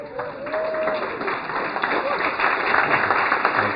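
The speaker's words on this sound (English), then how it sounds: "It's really nice that you gave them an applause" An audience at a workforce event applauds school counselors who stand to be recognized, a steady, fairly close burst of clapping with a voice briefly audible at the start.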